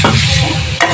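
Green chilies and onion frying in a pan for a village-style Maharashtrian vegetable dish, a loud, close, dense sizzle with a brief stirring scrape at the start and another near the end.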